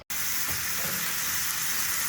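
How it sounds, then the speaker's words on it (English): Mushrooms sautéing in a hot pan give a loud, steady sizzle and hiss that starts abruptly and continues without a break at close range, with no talking. "Now we're sauteing mushrooms and whipping up the eggs."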